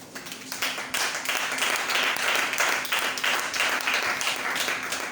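A church congregation at a French Bible seminar applauds in praise, sustained dense clapping that swells loudly after a brief start and carries on steadily, with faint voices mixed in.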